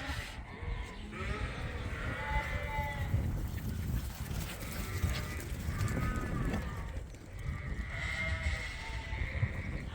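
February lambs on a sheep farm bleat repeatedly, several high wavering calls rising over a low background rumble, some near and some a little farther off.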